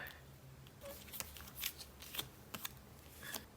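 Stiff K-pop photocards are being shuffled and sorted by hand, giving a string of short, crisp flicks and slaps that come close and fairly quiet, separated by brief pauses.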